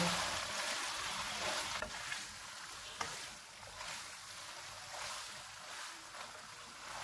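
Tuna pasta with parsley and olive oil being stirred in a hot pan, a continuous bright sizzle with soft scraping strokes and a couple of sharp clicks, alone without voices.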